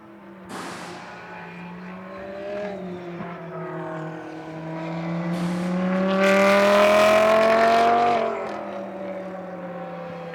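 An ISR Audi and a Rinaldi Ferrari GT race car lapping a circuit, engines droning in a rising and falling pitch that builds to a loud, close high-revving pass, then eases off and fades.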